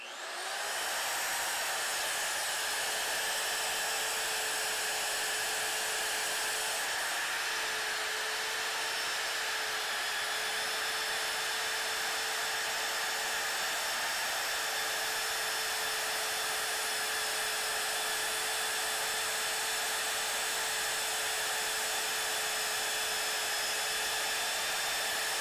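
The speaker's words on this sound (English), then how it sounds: "Switch over to twist drill bit for these small little holes." Mag drill spinning a twist drill bit through small holes during a hitch-mounted winch build, a steady high motor whine with a constant tone, close and loud, running unbroken for the whole stretch without speech.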